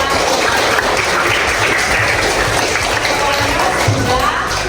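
Children clapping together in a classroom, a busy continuous patter of hands that stays steady and fairly loud throughout, with some voices mixed in.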